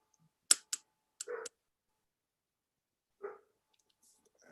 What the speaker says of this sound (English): And there's the dog barking in the background.